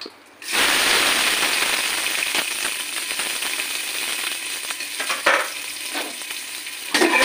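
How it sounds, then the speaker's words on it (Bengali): Onions dropped into hot oil burst into a loud, bright sizzle that settles into a steady frying hiss, with a few spatula scrapes and clicks. "উঠেছে, এবার আমি পেঁয়াজ ছাড়বো।"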